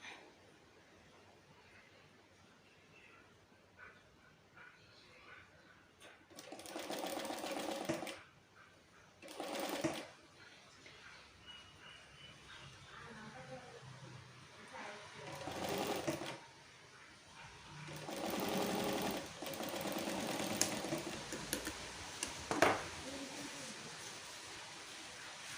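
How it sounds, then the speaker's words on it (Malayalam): A sewing machine stitches bra fabric in several separate runs, each a rapid whirring burst of a few seconds, with quiet pauses between them. "എന്നിട്ടൊന്ന് തയ്ച്ചു കൊടുക്കുക."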